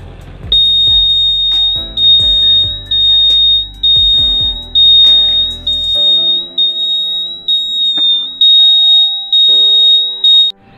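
A buzzer fitted to a Honda Aviator scooter sounds a loud, shrill, steady electronic tone that pulses in short repeated bursts. Heavy thumping knocks run under it at first, then fade away.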